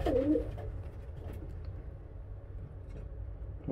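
Pigeons coo in a small breeding loft, a low rolling coo near the start giving way to quieter cooing and soft shuffling, close by, with no talk.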